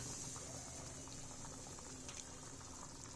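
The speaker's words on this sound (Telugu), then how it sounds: "నీళ్ళు కూడా త్వరగా వేడెక్కి మరిగిపోతుంది" Chicken curry simmers and boils in a clay pot, giving a faint, steady bubbling hiss that holds even throughout with no talking.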